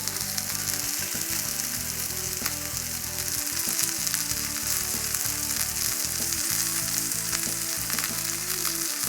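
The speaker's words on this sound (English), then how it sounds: "I'm just going to let this thing sear for a while on each side." A top sirloin steak sears in a hot cast iron pan after sous vide cooking, a loud continuous close-up sizzle with a crackling hiss that holds steady throughout.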